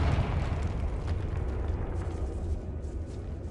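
A Confringo fire spell explodes in Hogwarts Legacy, a dense, rumbling blast with crackling bursts that holds steady at full loudness for several seconds without any voices.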